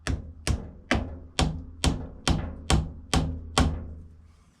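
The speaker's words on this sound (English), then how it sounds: "I'll just knock it with a little hammer." A small hammer knocks a metal lathe chuck in nine sharp, evenly spaced metallic taps, each with a short ringing decay, close and clear with no talking.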